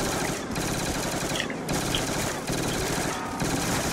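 Rapid ray gun fire against zombies in a Call of Duty style zombies game, dense continuous bursts with brief breaks near the half-second marks, loud and close.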